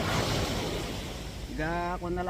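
Ocean waves wash onto the shore in a steady, loud, wind-blown roar. A person starts talking over the surf during the final second.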